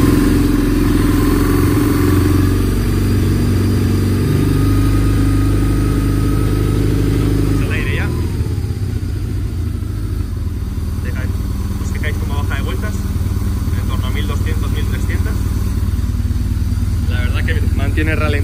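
A BMW R1100 GS motorcycle engine rumbles loudly, first running with a strong low drone, then settling into a steady idle with mechanical clatter, while someone speaks Spanish over it.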